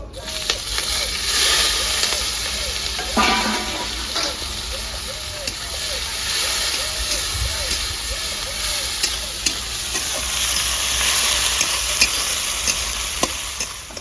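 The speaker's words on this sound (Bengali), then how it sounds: "পেঁয়াজটা লাল করে ভাজা হয়ে গেছে" Onions sizzle and hiss steadily in hot oil with dried chillies and whole spices while a spatula scrapes and stirs the pan in a regular rhythm, close and continuous.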